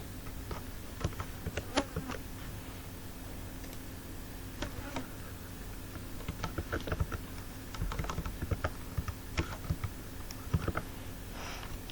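Close computer keyboard typing in bursts of quick, irregular key clicks over a faint steady hum, with no one talking.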